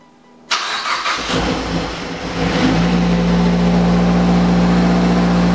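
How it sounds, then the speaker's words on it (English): A car engine cold-starts after an injector seal replacement: silence, then a sudden loud crank and catch, rough surging revs for a couple of seconds, settling into a steady, loud high idle. "That cold start though!"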